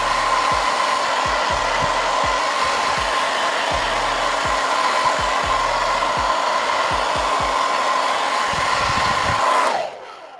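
Hair dryer blowing on its cool setting while drying hair, a loud steady whooshing drone with a constant whine, faint rubbing and handling underneath, cutting off at the end.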